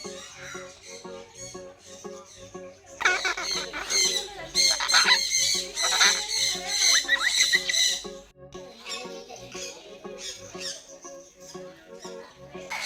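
Birds in a pet bird enclosure in Palakkad call loudly and continuously, with harsh squawks and clucking calls overlapping through the middle stretch before easing to scattered calls.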